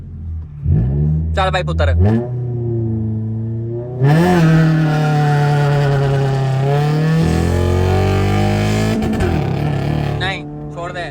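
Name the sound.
modified race car revving during launch check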